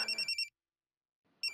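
An electronic phone ringtone for an incoming call chirps in quick pulses, breaks off into silence, then starts again, close and clear with no talk.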